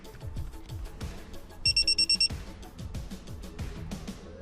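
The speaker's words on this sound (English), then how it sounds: "Once connected, the device emits 6 quick beeps." A Geotab GO9 vehicle tracker plugged into a diagnostic port gives six quick, evenly spaced high electronic beeps, clear and close over a busy rhythmic background of music.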